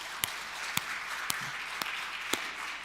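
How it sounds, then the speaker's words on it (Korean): A church congregation at a Christmas service claps in a slow, steady rhythm, five distinct beats about half a second apart over a hushed room, moderately near. "찬양과 영광의 박수 더 크게"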